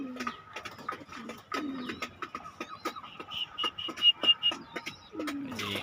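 Pigeons coo in a repeated run of soft, low throaty calls, close by and moderately loud, with sharper chirps and rustling clicks in between.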